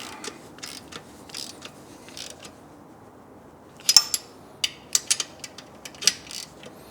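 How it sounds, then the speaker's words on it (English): A 12mm deep socket tightens the exhaust flange bolts on a Euro 5 Triumph Speed Twin 1200 X-pipe install. Faint mechanical creaks come first, then a close burst of sharp ratcheting clicks, with no voices. "now a 12mm deep socket. You tighten up the flange bolts."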